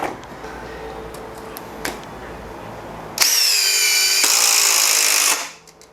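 A Makita 40V TD001G cordless impact driver drives a screw: a faint background hum with a few clicks, then a loud, close, steady rapid hammering whir for about two seconds that stops abruptly, alone without talking.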